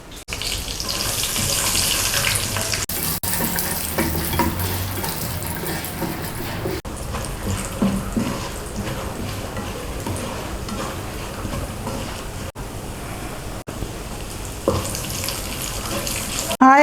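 Cashew nuts frying in oil for a fish biryani, giving a loud, continuous bubbling sizzle close up, with brief scraping and stirring knocks along the way.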